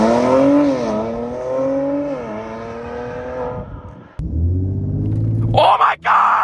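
Honda Accord with Hellcat SRT engine swap launching hard on launch control, a loud engine holding a steady high rev, then dropping and surging into harsh, rising acceleration with gear changes, close and rough.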